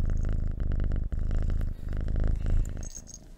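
A cat purrs loudly and steadily up close, a continuous rumbling drone with rhythmic pulses of breath and no voices.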